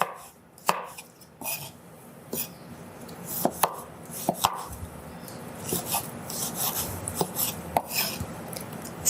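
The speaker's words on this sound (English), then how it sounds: "So I'm also dicing my tomatoes" Knife dicing tomatoes on a cutting board in a home kitchen, a string of sharp, uneven chops and scraping board taps, close and moderately loud with no talking.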